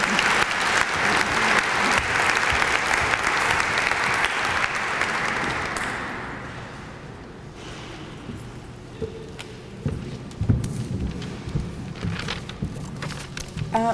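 Audience applause at a breast cancer awareness luncheon, a loud dense round of clapping that fades after about six seconds into quieter room noise with scattered claps and movement.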